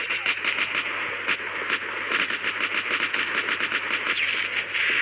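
Rapid bursts of video game gunfire, dense and continuous over a steady electronic hum, with repeated sharp shots throughout.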